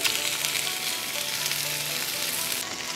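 A fish fillet, just flipped, sears in a hot pan for a final bit of color, giving a steady, dense, loud sizzle that holds evenly for a few seconds without any voices.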